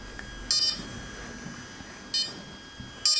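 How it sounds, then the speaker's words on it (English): Three short high-pitched electronic beeps from a Wingsland S6 drone booting up sound at irregular intervals over a quiet background hum. "So the beeping takes around 15 seconds or so"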